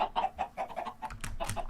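Chickens in Minecraft Sky Factory cluck in a quick, steady run of short calls, close and clear with no talk over them.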